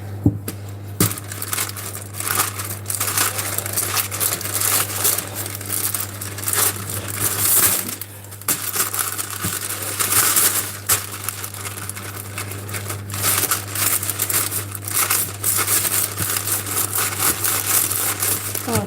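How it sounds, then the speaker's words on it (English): Dough rolled between two sheets of parchment with a hairspray can makes a continuous crinkling, rustling scrape that rises and falls over a steady low hum, with no talking. "Easier to roll between two sheets of parchment."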